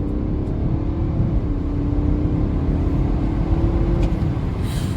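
BMW 330d accelerating hard in manual mode with wheelspin, a loud steady engine drone with a rising tonal whine throughout, heard from inside the car.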